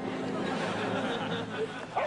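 Sled dog in a harness team barking with yips and excited whimpering, close by over a continuous rumble of movement.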